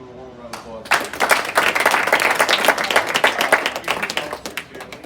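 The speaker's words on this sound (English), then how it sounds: "let's give him a warm round of applause" A crowd bursts into sustained clapping at a black belt graduation. The applause starts abruptly and holds dense and fairly loud for several seconds before easing slightly.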